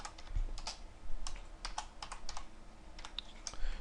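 Fast computer keyboard typing clicks away in quick irregular bursts, close and fairly quiet, with no talking.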